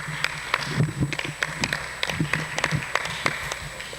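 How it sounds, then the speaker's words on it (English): Audience applause for the judges at a debate event, a sparse, uneven patter of individual claps at moderate distance, fairly quiet and loosening as it goes. "A round of applause."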